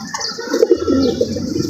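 A wet-throat pigeon gives a short low coo up close, one brief rolling phrase over a quiet background.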